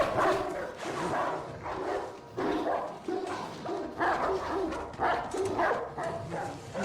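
Several dogs bark and yip in repeated bursts at moderate distance, layered over one another with some whimpering and faint talk in the background.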